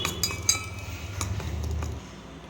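A spoon stirs a tomato and gram flour face pack in a bowl, with repeated light clinks and taps against the bowl over a soft, continuous scraping, close and fairly quiet.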